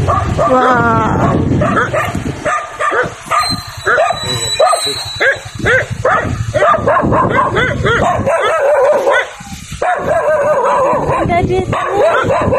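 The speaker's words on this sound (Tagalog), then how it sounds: "Ala, ang daming aso." Many dogs bark and yip together in a loud, dense chorus with some whimpering, close by during an outing, while people chatter over the noise.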